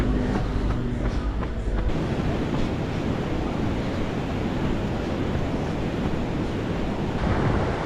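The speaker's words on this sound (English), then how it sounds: "Ended up on the beach" Ocean waves wash onto a beach in a continuous broad roar, heavily mixed with wind buffeting the microphone, with no clear breaks between surges.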